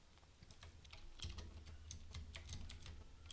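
Fingers type code on a computer keyboard while building a Laravel news portal. The keystrokes are quiet and close, a steady patter of light clicks with no speech.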